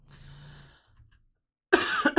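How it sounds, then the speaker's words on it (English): A short, sharp cough bursts out close by after a brief quiet stretch, loud and harsh with a quick second hack. "Pardon the cough."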